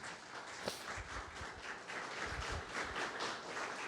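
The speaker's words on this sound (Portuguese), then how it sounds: "Aplauda o Senhor Jesus" Church congregation applauding during a Portuguese-language service, a faint, steady wash of many hands clapping at a distance, no voices over it.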